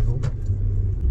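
A car drives up a road through the Swiss countryside, its engine giving a steady, close, low rumble for a brief moment.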